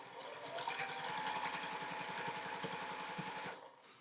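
A sewing machine chain-pieces quilt squares for flying geese blocks, its needle running in a fast, steady mechanical rhythm at close range for several seconds before cutting off near the end.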